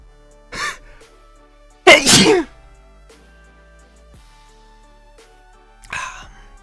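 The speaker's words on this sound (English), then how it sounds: "I'm gonna sneeze" A person sneezes three times: a short one, then a louder, fuller sneeze, and a final quicker one, each standing alone against a quiet room background with a faint hum.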